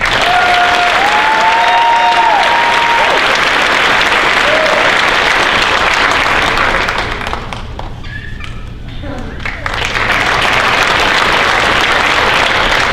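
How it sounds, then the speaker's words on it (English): A crowd at a police ceremony applauds an officer from the Charles County Sheriff's Office with loud, sustained clapping that briefly dips in the middle before swelling again, with some voices mixed in. "Let's give one more big round of applause"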